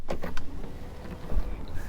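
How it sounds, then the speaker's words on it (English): Motorized Bang & Olufsen speakers retracting into the dashboard of a 2020 Audi SQ7 after the car is switched off and the door opened, a brief soft mechanical whir with faint clicks close by. "the Bang & Olufsen speakers hide away"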